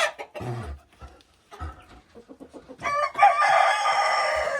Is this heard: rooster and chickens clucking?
yes